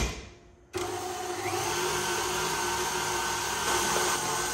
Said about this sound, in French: c'est de venir fouetter pendant minimum 5 minutes jusqu'à ce que nos jaunes d'œufs blanchissent